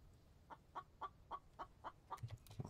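Chicken clucking in a video game, a series of about eight short, evenly spaced clucks at moderate volume, with a couple of low thumps near the end and no talk.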